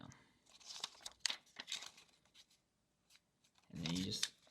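Paper for a Stormtrooper Popfold piece crinkles and creases close by in several short rustling bursts, ending with a longer fold scrape, while a voice talks faintly between them.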